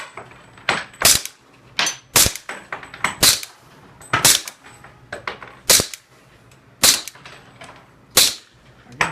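Sharp gunshots fired outdoors at night ring out about a dozen times at irregular intervals over nine seconds, each a loud, crisp crack with a short echo, set against faint background noise.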